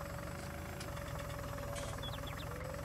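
A skid steer engine in Farming Simulator 19 idles with a steady knocking chug, a moderate low throb with a faint whine and a few light chirps on top.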